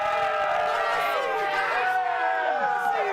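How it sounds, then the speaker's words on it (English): An audience at a college sports show cheers loudly for a face-off fan favorite, a sustained wash of whoops and shouts with overlapping voices rising and falling throughout. "Cheer loud and proud and hold up the head for your favorite"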